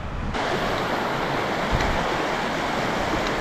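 A river rushes loudly and continuously at a fording spot along the Sarek circular hiking route, a close, dense roar of flowing water with some wind against the microphone and no voices.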